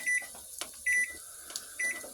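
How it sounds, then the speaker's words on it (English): Three short electronic beeps of an alarm going off, evenly spaced about every 0.85 seconds, moderately loud over quiet room noise with a few faint clicks between. "Alarm's going off."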